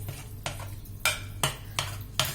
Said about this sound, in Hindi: फ्रेंड्स, यहां इसको कर रही हूं मिक्स